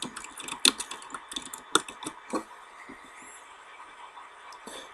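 Clicky keystrokes on a computer keyboard come in a quick irregular burst of taps, close and fairly crisp, then trail off into a quieter stretch with only a few scattered clicks.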